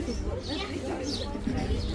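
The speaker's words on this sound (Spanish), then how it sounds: "Miren un pajarito." A small bird at the Panajachel viewpoint gives soft cooing, chirping calls, close and faint, with some background voices.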